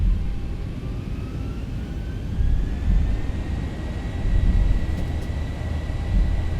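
Boeing 737 jet engines in X-Plane 11 spool up to takeoff thrust, a steady low roar with a rising whine that climbs in pitch and swells slightly in loudness, with no voices.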